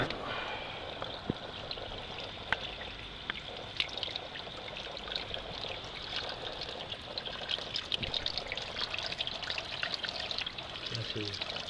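Water is poured heavily onto a veranda roof to test for a leak, making a steady, close pouring and splashing rush that continues throughout, alone without talk.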